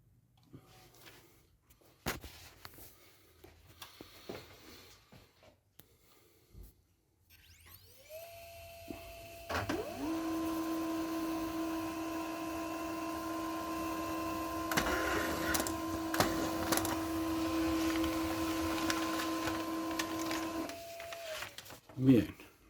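A printer prints a PCB circuit onto magazine paper, starting with clicks and a rising whine, then a sustained mechanical hum with a steady tonal whir for about ten seconds before stopping; a person speaks briefly at the start.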